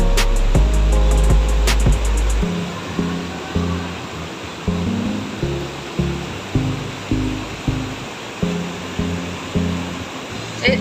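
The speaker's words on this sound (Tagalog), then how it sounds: "napakalakas ng tubig oh" Strong water rushing over large boulders at a riverside spot after unexpected heavy rain, a loud continuous roar with rhythmic surging pulses running steadily throughout.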